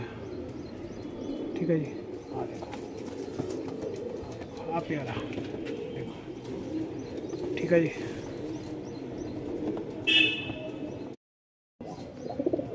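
Pigeons at a pigeon farm in India give soft, low cooing and occasional chirps throughout, while someone speaks close by over them.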